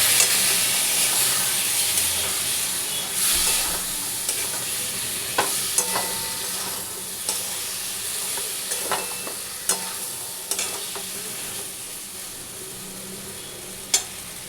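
Potatoes and pointed gourd frying in a pan hiss and sizzle steadily after water is poured in, with occasional clicks of a stirring spoon, close and constant throughout.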